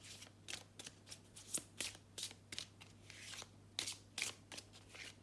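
Tarot cards are shuffled and pulled in a quiet room, a run of soft, irregular papery flicks and riffles sounding close up with no talk.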